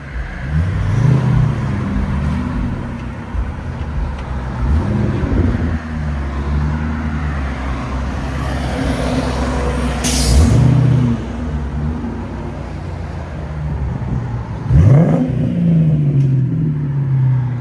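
A 1997 Ford Mustang GT 4.6L V8 rumbles nearby with a deep, throaty Flowmaster Flow FX exhaust, revving sharply several times above a steady idle.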